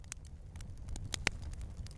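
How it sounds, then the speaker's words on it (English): Campfire crackling outdoors: sharp, irregular pops and snaps scattered over a low, soft rumble, faint and steady for a couple of seconds. "we can all make an educated guess what this campfire might sound like."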